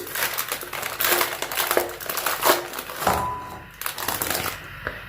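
Oreo cookies being crushed inside their plastic packet in a home kitchen, a loud continuous crinkling and crunching of wrapper and biscuit with irregular bursts, close up and alone.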